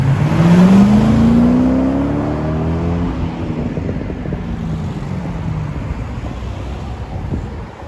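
Loud sports car engines rev up hard nearby with a rising whine as the cars accelerate away, fading into a lower rumble and wind buffeting.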